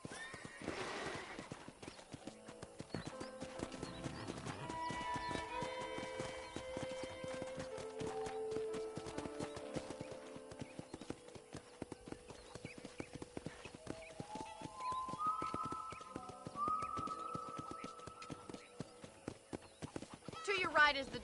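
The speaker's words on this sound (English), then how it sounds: "let's see if you can still ride a horse" Horse hooves clip-clopping at a steady riding pace in the Western video game Red Dead Redemption, with a whinny near the start, while characters talk over the hoofbeats.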